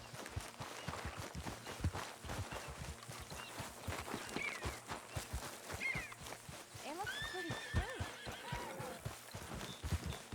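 Horses in Red Dead Redemption 2 whinnying with rising and falling neighs, over a steady clip-clop of hooves, fairly faint and set back, with brief soft voices in the background.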